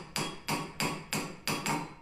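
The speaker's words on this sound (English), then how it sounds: "The 101 beaker starts as a flat circle of silver and is gradually raised by repeated hammering over different shaped formers." A flat circle of silver being raised into a beaker by hammering over a shaped metal former: five loud, evenly spaced hammer blows, each ringing briefly and fading, with no voices.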